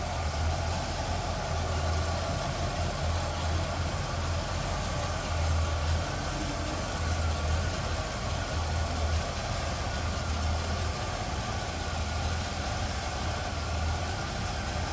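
A 1975 Buick Electra 225 with its 455 V8 idles smoothly and steadily close by, a continuous low rumble holding even for the full stretch with no voices over it.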